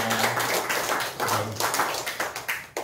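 A church congregation claps in welcome, a fairly close, uneven patter of hands that swells and fades in short bursts over a few seconds.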